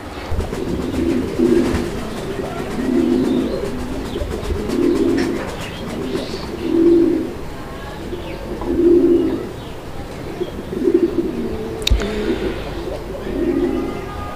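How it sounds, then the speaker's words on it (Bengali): Fancy pigeons cooing in a loft, a rhythmic series of close, soft, throaty coos repeating every second or two over faint chirps. "কবুতরগুলোর যে ডাক, আলহামদুলিল্লাহ একদম মাশাআল্লাহ অনেক সুন্দর ডাকের কবুতর"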